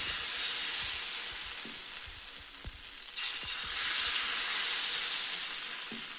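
Chira pitha, a cake of rice flour batter, fries in a hot pan with a continuous bright sizzle and hiss, close and steady, with faint scrapes underneath.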